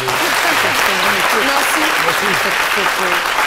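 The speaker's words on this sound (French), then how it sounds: "on va l'applaudir encore." A television studio audience claps in a sustained, dense burst on a midday talk programme, loud and close, while a voice keeps talking over the applause.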